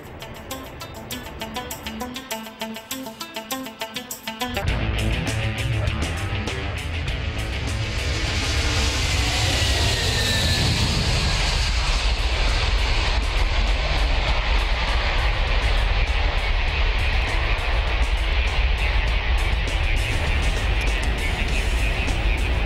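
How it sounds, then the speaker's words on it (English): The Antonov An-225, the world's biggest plane at about 500 tons, taxiing, its engines building into a loud, sustained roaring whine that fills the scene without pause. "This is it, the Antonov 225, the biggest plane in the world, 500 tons of it now. It's taxiing."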